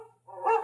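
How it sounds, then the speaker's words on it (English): A single short dog bark sounds in the animatronic Disney Carousel of Progress show, close and distinct against a quiet low hum. "Don't worry, Rover. She didn't mean real dogs"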